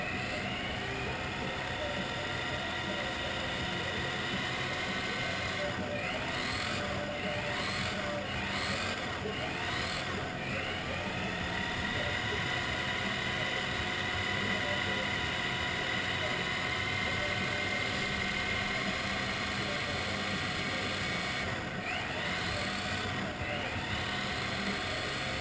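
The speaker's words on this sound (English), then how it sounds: "So now I'll spool it up again." A Kyosho RB6 RC buggy spools up to break in its slipper clutch, giving a constant high-pitched electric motor and drivetrain whine with a few rising and falling throttle swells, heard close and steady.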